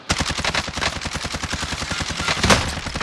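Rapid automatic gunfire in a video game shootout, a dense loud rattle of shots running without pause for about three seconds.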